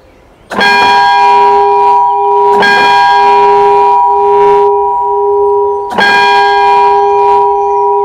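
A steel church bell in a bell museum rings automatically in three loud, clear strikes, each leaving a long sustained ringing hum that carries between strokes, with no talking.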